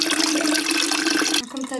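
Homemade lemonade pours and splashes through a metal cooking basket strainer, a loud close rushing gush of liquid that stops abruptly near the end.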